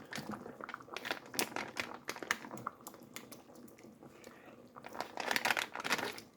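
Cubes of Velveeta cheese dropped one after another into a pot in a home kitchen, a soft irregular run of close thuds, plops and crinkling handling noises.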